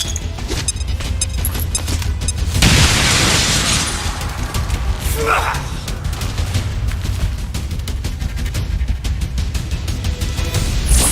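Bombs exploding in the video game XCOM 2: War of the Chosen, loud rumbling blasts with a big burst a few seconds in, over dense rapid crackling and impacts that continue without pause.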